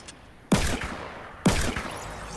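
Two loud, close revolver shots in a video game, a second apart, each with a sharp crack and a short rumbling tail.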